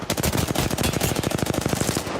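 Rapid automatic weapon fire in the Apex Legends battle royale game during a competitive ALGS match, a dense, loud, continuous burst of evenly spaced shots lasting the whole moment.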